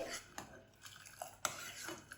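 A spoon stirring sugar syrup in a pan, with soft scrapes and a few light metallic clinks against the pan, faint and close.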